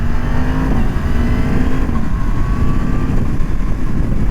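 A 2025 Yamaha MT10 motorcycle accelerates hard through the gears using its quick shifter, engine note rising steadily and loud with near-seamless shifts and no voices.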